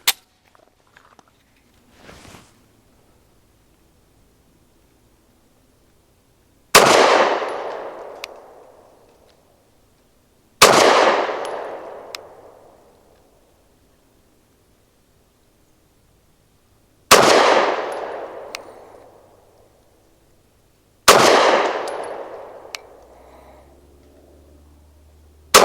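Sharp, loud pistol shots from a SAR9 SC Gen 3 firing 124 grain rounds at an outdoor range, several widely spaced single reports each trailing into a long echo, with quiet gaps between.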